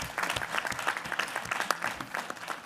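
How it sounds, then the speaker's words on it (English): A room of committee members breaks into sustained, dense applause after state presentations at a party rules and bylaws meeting, steady clapping with no voices, fairly close and even in loudness throughout. "I think we should give them all a big round of applause"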